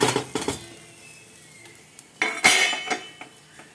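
Metal steamer pot being opened during cooking of red poha kozhukattai, with clanking lid and clinking utensils in several bursts, loud near the start and again toward the end.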